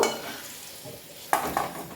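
Fried potatoes are lifted out of hot oil in a pan for a Bengali fish curry, with a soft oil sizzle and a couple of sharp clinks of a metal utensil against the pan.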